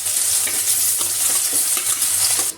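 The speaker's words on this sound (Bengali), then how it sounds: "বাকি মাছগুলো আমি ভেজে নিচ্ছি।" Small puti fish frying in hot oil, a loud, dense, crackling sizzle heard up close, steady throughout with faint spattering pops and light utensil movement.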